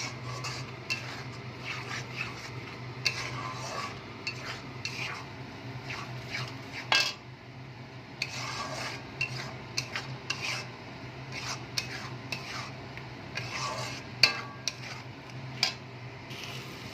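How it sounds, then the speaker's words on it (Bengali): A utensil scrapes and rubs against a wok while mustard spice paste and water are stirred and fried for prawn malaikari, in repeated soft strokes and small clinks, fairly quiet with no talk. "জলটা আমি দিয়ে দিয়েছি, একটু ভালো করে কষিয়ে নেব।"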